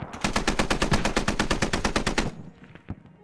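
Machine gun in the military shooter game Squad fires a rapid, evenly spaced burst of about twenty loud shots for two seconds, then stops, leaving a few faint distant shots.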